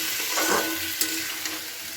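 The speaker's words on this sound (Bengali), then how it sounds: "এবার সবজির সঙ্গে মশলাগুলোকে খুব ভালো করে মিশিয়ে কষিয়ে নিচ্ছি।" Mixed vegetables and spices stir-fried in a pan, a steady loud sizzle with a few sharp utensil clinks and scraping strokes, no talking.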